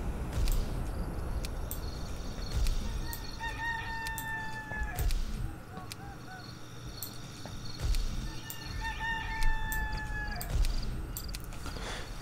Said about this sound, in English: The cockerel keeps shouting and waking him up